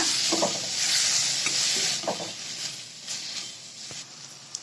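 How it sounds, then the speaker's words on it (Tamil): Tomatoes and green chillies sautéing in a pan for a channa masala gravy, a soft steady sizzle with a few quick scraping stirs of a spoon, fairly close and alone. "இது எல்லாத்தையும் நல்லா வதக்கிக்கோங்க"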